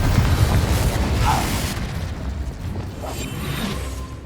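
Incendio fire spell and Confringo blast spell cast in Hogwarts Legacy, producing a dense rumbling burst that swells and slowly fades over several seconds, with no voices.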